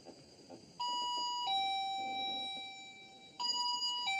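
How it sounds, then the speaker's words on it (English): A laser beam motion detector at the Mermaid Inn sounds its audio alarm, a loud electronic two-tone chime that switches pitch and repeats several times. "it will create an audio alarm like this"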